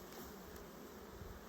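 Bees hum around an open beehive, a faint, dense and steady buzz that holds without break, with no talking.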